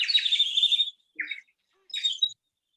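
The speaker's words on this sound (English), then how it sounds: "he woke up early to the chirping of the birds." Birds chirping on an early morning, heard as three separate bursts of bright, close tweeting with short silences between them.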